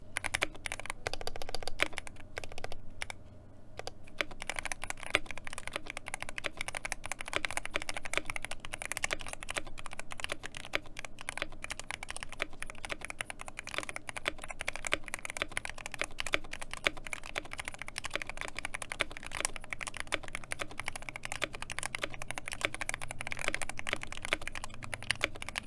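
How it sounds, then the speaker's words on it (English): Rapid, continuous clatter of a computer keyboard being typed on, close and steady throughout with no talking. "let's go ahead and see how this sounds with some keyboard audio"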